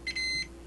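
A multimeter in continuity mode gives a short electronic beep while a soldered DFN/QFN part's pads are probed for a short; one clear tone of about a third of a second, close and alone, with a brief blip just before it.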